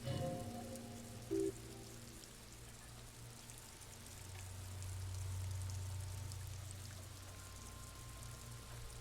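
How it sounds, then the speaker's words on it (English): Rain in the Disco Elysium video game falls as a soft, continuous patter. It stays quiet and even under faint sustained tones, swelling slightly midway. "It's raining."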